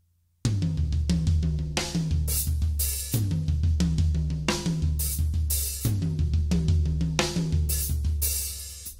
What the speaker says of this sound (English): Now when you bring the left hand over to the hi-hat, you're going to open it up twice.